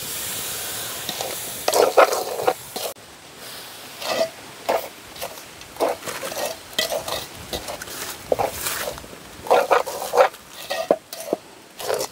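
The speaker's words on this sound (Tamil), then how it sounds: "இப்போ நாங்கள் கொஞ்சம் கொஞ்சமாக பசுப்பாலை விடுவோம். விட்டு நல்ல வடிவாக அப்படி கிண்டுவோம்." A spoon stirs cow's milk into a laddu mixture in a village kitchen pan, with rhythmic scraping strokes and a soft sizzle, close and fairly loud, with no talk.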